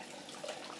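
Sparge water running steadily into the grain mash during an IPA homebrew day, a continuous soft splashing trickle heard close and alone without talk.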